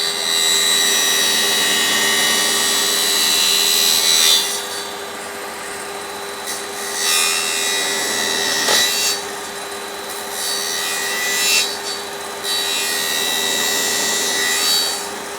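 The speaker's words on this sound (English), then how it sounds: "I'm just going to cut this through on a bit of an angle." A hand saw cuts freehand at an angle through a wooden drum shell, making close, loud, steady rasping strokes with brief pauses between bursts.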